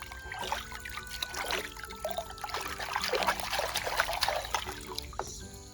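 Water trickles and splashes softly while toy animals are cleaned, a faint continuous dribble with light splatters and small clinks throughout.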